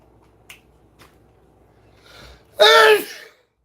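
A person sneezes while counting coins in dust, with a soft intake building into one loud, sharp sneeze near the end after a couple of faint clicks.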